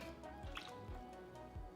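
Buttermilk poured into carrot cake batter gives a soft, wet dripping and squishing sound, a few quiet liquid drips over a low steady hum with no one talking.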